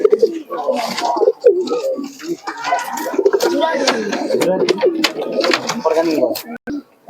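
Flying-breed pigeons coo in low, throaty, rolling calls that repeat close by through most of the stretch, with a few sharper rustles and wing sounds mixed in.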